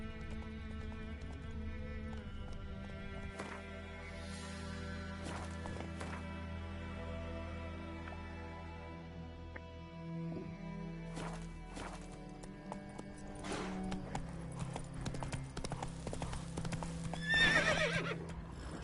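Horse hooves clip-clopping as the rider travels in The Witcher 3, a steady, moderately loud rhythm over game music, with a whinny and a louder burst of movement near the end.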